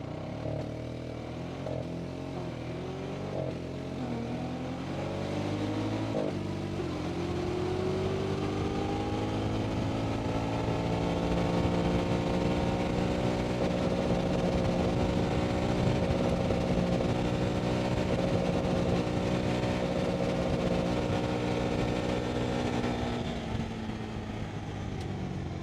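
A Honda Pioneer 520 side-by-side in automatic, two-wheel drive, accelerates hard along an empty road on a top speed run, its engine note climbing steadily then holding a loud, sustained drone near its limited top speed, with no talking.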